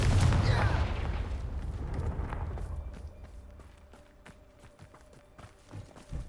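A Confringo spell blast in the video game Hogwarts Legacy opens with a loud, booming burst. It fades over a few seconds into quieter game ambience with faint scattered clicks.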